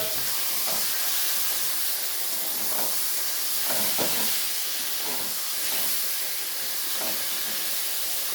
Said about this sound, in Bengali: এবার আমি মটনটা দিয়ে দেবো।